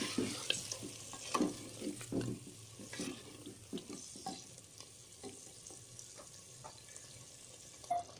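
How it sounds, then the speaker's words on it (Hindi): Chicken korma cooking in a pot after yogurt is added, stirred and frying with soft sizzling and repeated scraping strokes of a spoon, close and moderately loud with no talking. "दही डाल के फिर हम अच्छी तरह भूनेंगे।"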